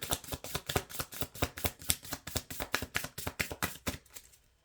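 Playing or tarot-style cards riffle-shuffled by hand at close range, a rapid rhythmic series of about twenty crisp flicks and slaps that stops near the end, with no talk.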